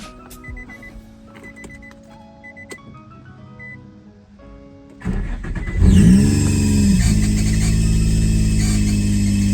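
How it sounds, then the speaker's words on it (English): A running Infiniti G35 engine with a squeaking tensioner pulley starts after a few quiet clicks, then settles into a loud, steady idle with a continuous high whine. "So that sound right there you hear, the squeaking, that's one of the pulleys, the tensioner pulley."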